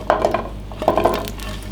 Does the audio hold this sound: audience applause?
no